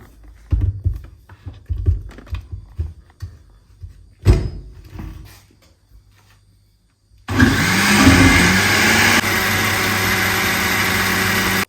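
An electric grinder whirs steadily, grinding cooked spinach for palak paneer. A loud, continuous motor drone follows scattered kitchen clatter and knocks.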